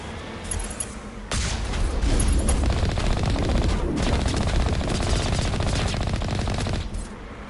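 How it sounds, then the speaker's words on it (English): An Alliance heavy turret in the Mass Effect game opens up after a brief lull and lays down a loud, continuous stream of rapid automatic fire for several seconds before cutting off. "Alliance heavy turret. That's what it says, right?"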